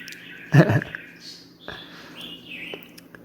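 A pet budgie gives a few short chirps and tweets, one louder burst then softer calls, fairly close in a quiet room.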